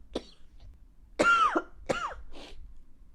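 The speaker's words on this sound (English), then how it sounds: "I am going to cough." A person coughs several times in quick bursts, a couple of harsh throaty coughs followed by a softer clearing, close and loud.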